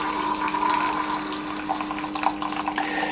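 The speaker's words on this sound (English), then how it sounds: "there's another motor noise as water is drawn from the water reservoir back into the Mr. Coffee machine to heat up for the next cup of coffee" Small motor pump in a Mr. Coffee single serve brewer (BVMC-KG6-001) drawing water from its reservoir, a steady close hum with watery gurgling and faint splashy bursts throughout.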